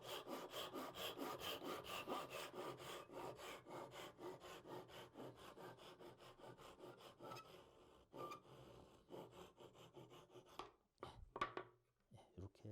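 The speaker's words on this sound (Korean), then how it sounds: "먹금칼을 살짝 가리고 톱질을 하는" A hand saw cuts wood for a three-way miter joint, a long run of steady, rhythmic back-and-forth strokes close up that slows and breaks into a few scattered, separate strokes near the end.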